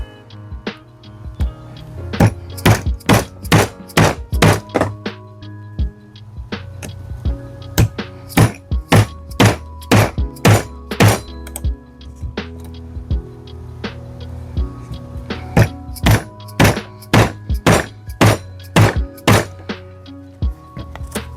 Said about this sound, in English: making sure your chisel's plumb, and then you'll chop deeper